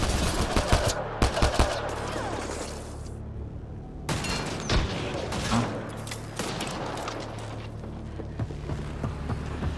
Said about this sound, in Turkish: Etrafta sürekli bir şeyler patlıyor ya, patlama sesleri var.